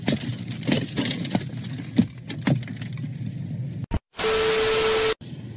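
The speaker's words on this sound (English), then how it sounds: "They're about to break my window, which I'm pressing charges about." A car window smashed during a roadside confrontation: scattered thumps and crackles, then a sudden sharp burst and a loud, sustained hissing roar near the end, with no talk.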